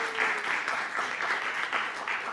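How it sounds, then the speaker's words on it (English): Conference audience at a UNFCCC COP side event applauds two speakers, brief moderate clapping from a modest crowd, fairly close and continuous. "So one more round of applause for Kathy and Marie-Claire"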